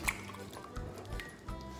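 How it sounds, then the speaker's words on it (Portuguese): Tap water runs faintly and steadily during handwashing at home, a soft, low trickle with a few light splashes and no talking. "Coloquem água, isso que é água"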